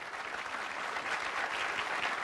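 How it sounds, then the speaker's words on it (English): A political town-hall audience applauds a speaker, a steady, full round of many hands clapping together, building slightly and continuing without talk over it. "Thank you for the round of applause."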